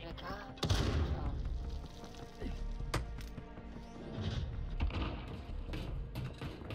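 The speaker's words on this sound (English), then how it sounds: "Check out this gameplay with the MK11 launcher." MK11 launcher fire in Warzone: a few sharp, separated cracks and booms amid fainter background gunfire, heard under people talking.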